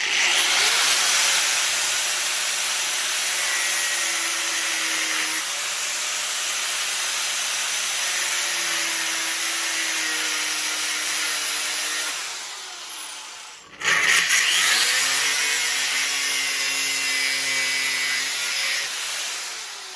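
Angle grinder powered by a 70mai Tera 1000 power station, a loud, high, steady whine that sags as it bites into work, briefly stops, then spins back up.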